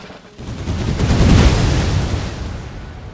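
Grenades detonate in the Empire Total War strategy game with the Empire 2 mod, a single loud rumbling blast that swells over about a second and then fades into a deep roar.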